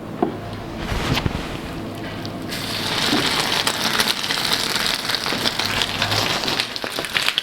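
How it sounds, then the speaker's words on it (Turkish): Beef tail fat melts in a hot cast iron pan, producing a continuous crackling sizzle that starts lighter and swells louder halfway through, close up and with no talking. "Kuyruk yağımızı çok hafif eriteceğiz."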